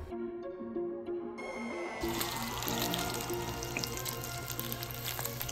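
Chicken cutlets dredged in flour and egg sizzle in hot oil in a pan, a steady dense crackle that swells after a quieter start and holds close and fairly loud throughout.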